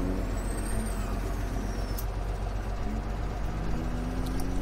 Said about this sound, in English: Let's get a truck over to field 18.